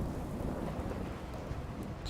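Rain and rolling thunder in Fallout 4, a steady dense wash of rainfall with low rumbling underneath, continuous and fairly loud, with no voices.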